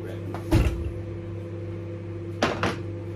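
A microwave reheating chicken adobo gives a steady, even hum, broken by two sharp clunks of the door or dish being handled.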